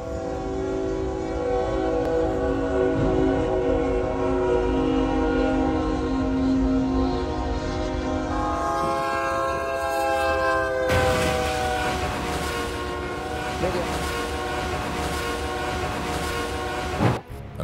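A Union Pacific train at a railroad crossing in Forney, Texas sounds its horn in a long, loud, sustained blast with steady harmonic tones, shifting pitch partway through as the train passes with rumbling rail noise underneath.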